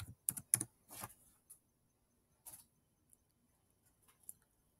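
Keys tapped on a Chromebook keyboard, a quiet close cluster of quick clicks early on followed by a few sparse, isolated taps against near silence.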